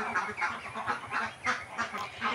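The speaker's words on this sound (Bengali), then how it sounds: "এই যে আমার হাঁস, এই যে বাচ্চা হাঁসগুলো" Domestic ducks and their ducklings quack and honk in repeated bursts roughly every third of a second, close and fairly loud, with no talking over them.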